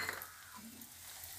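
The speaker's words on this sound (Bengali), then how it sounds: "এবার বড়ি কটা ভেজে নিচ্ছি" Bori lentil dumplings frying in hot oil left from frying fish, a faint soft sizzle with light stirring scrapes in a quiet kitchen.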